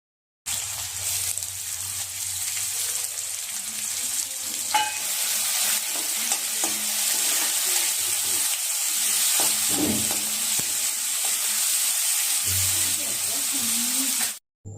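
Onion, three dried chillies, crushed garlic cloves and curry leaves frying in a pan for radish sambar, a steady close sizzle with occasional stirring knocks and scrapes, ending abruptly.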